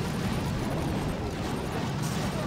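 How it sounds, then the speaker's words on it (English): Rocket launcher explosions from the mobile strategy game Boom Beach come as a dense, continuous roar of blasts and rumbling impacts, loud and close, with no speech. "Oh, the two rocket launcher hits me hard."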